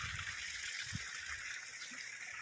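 Water gushing from a natural spring in Kashmir, a steady bright splashing flow with faint low thumps underneath, no speech.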